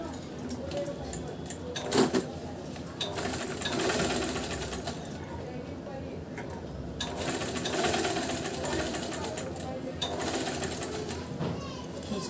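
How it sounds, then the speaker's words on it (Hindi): Sewing machine stitching a double katori blouse, the cup piece turned over and sewn with a half-inch margin; steady whirring runs in bursts with short pauses and a clink near two seconds, while a voice speaks softly in places. "आराम से धीरे धीरे सिलेंगे।"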